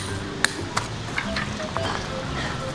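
Tent stakes are hammered into the ground at a campsite in the evening, with a few sharp metallic pings spaced irregularly over steady outdoor background noise.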